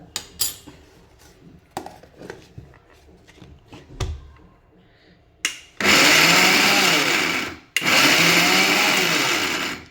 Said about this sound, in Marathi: अशा पद्धतीने चालू बंद करून हे दळून घ्यायचं आहे